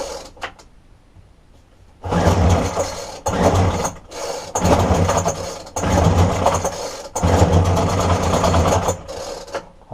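A dumped petrol strimmer on half choke is pulled over repeatedly, giving bursts of mechanical cranking with possible brief firing. The pulls come in rhythmic close, loud bursts after a quiet start, with no talk.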